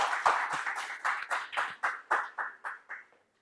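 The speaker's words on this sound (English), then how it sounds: "So round of applause for Pietro," Small audience claps for Pietro at the close of a lecture on optimization modeling software: about a dozen separate, fairly loud handclaps in a steady rhythm, fading out after roughly three seconds.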